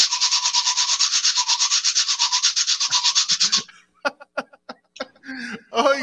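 Guacharaca scraper played with a quick toothbrush-style stroke, a fast, steady run of close, bright rasping scrapes lasting about three and a half seconds, followed by a few scattered scrapes and some chuckling and voice sounds.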